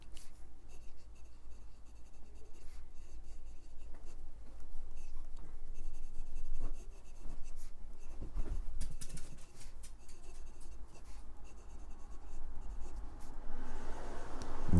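Nib of a Namisu Naos aluminium fountain pen, a wet-writing medium steel nib, scratching softly and steadily across paper in a close, quiet, continuous pattern of small strokes.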